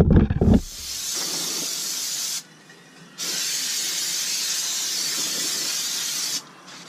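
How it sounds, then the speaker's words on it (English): Brake cleaner sprays onto new brake rotors of a 2010 Camaro SS in two long, loud aerosol hisses with a short break between them, after a brief knock at the start. "You have to clean them with some brake cleaner."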